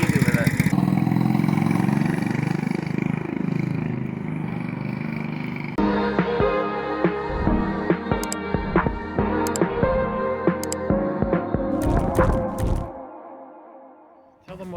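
A 212cc CT100U minibike engine fitted with a billet rod and flat top piston runs with a loud, throbbing mid-range drone, then shifts to a rougher, choppier sound with rattles before cutting off near the end, with people talking.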